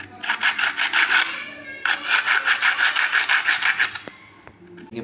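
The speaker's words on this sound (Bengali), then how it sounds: "শীষ পেপার নিয়ে এভাবে ঘষে নিন" Small bicycle brake pads rubbed against sandpaper by hand: fast, rhythmic back-and-forth scratchy strokes, close and loud, with a brief pause partway through and handling noise at the end.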